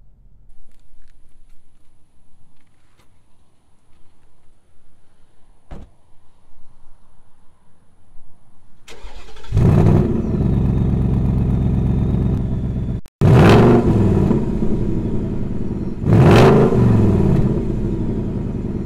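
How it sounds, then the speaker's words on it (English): A 2021 Ford Mustang GT is started from quiet, its engine catching with a loud burst at about nine seconds, then settling into a steady rumble broken by two sharp revs near the end, with no talking. "Let's go ahead and go to the back and give you a couple revs."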